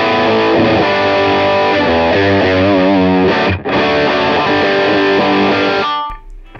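A distorted electric guitar played through a Line 6 POD Go modeler, with loud, sustained riffs and chords that fade out at the end, with no talk.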